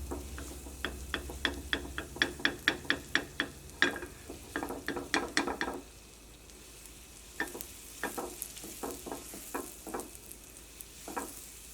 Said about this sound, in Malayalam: ഈ ബട്ടർ നന്നായിട്ട് ചൂടായിട്ട് ഈ ബട്ടറിലുള്ള ഈ വെള്ളമൊക്കെ പോയിട്ട് ഇടുന്നതാട്ടോ